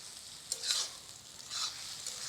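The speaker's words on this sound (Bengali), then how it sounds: "এই যে পেঁয়াজটাকে একটু ভেজে একটু হালকা লাল করে নেব" Onion fries lightly in a pan with curry leaves for a crab curry, heard as a faint, brief crackle with a couple of soft stirring sounds.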